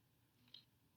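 A single sharp mouse click in a form builder, crisp and close in an otherwise quiet room, preceded by a faint soft tap.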